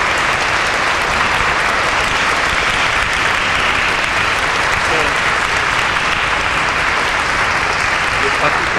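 Audience at a church concert applauds loudly and steadily, a dense, sustained wash of clapping that holds at full strength throughout with no letup.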